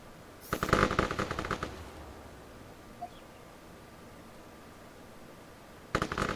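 Machine gun fire in the military video game ArmA 3 comes as two rapid bursts, one long volley near the start and a shorter one at the end, with quiet ambient hiss between.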